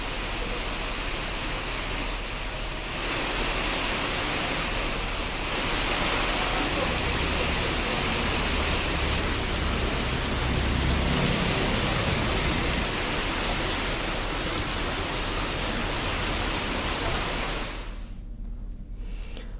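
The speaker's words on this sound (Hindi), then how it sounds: "बलरामपुर में भी बारिश हुई है।" Heavy monsoon rain pouring down in Balrampur, Chhattisgarh, a steady dense broadband roar that continues without a break, cut off near the end.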